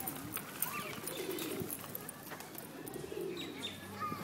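Pigeons cooing softly nearby, a low steady murmur of coos repeating through the clip against faint outdoor background, with a few brief chirps and no speech.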